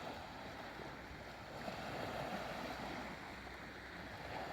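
Sea waves wash steadily onto the beach at Mae Ramphueng in Bang Saphan, Prachuap Khiri Khan, Thailand, a continuous broad hiss of surf mixed with wind buffeting the microphone.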